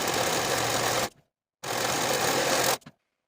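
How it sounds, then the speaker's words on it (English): A serger or sewing machine zigzag-stitches over raw fabric edges in two loud, steady runs, each about a second long, separated by a brief silence. "Sew over these raw edges with your zigzag stitch or use your serger"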